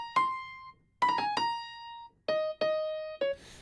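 Studio One's Presence piano sampler panned center plays a short single-note melody, about eight clear, soft notes in uneven clusters, each decaying quickly, with nothing else audible.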